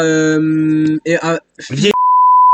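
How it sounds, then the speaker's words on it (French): A flat, steady censor bleep tone that holds to the end after a few seconds of people talking. "Après cette séquence de bip intense"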